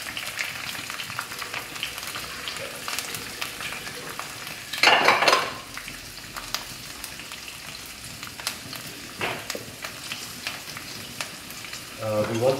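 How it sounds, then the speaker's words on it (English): Dried chilies fry in a few tablespoons of hot oil for Kerala-style beef fry, a steady close crackling sizzle with a brief louder burst of spitting midway and light pan clatter near the end. "We want to fry until it starts blistering"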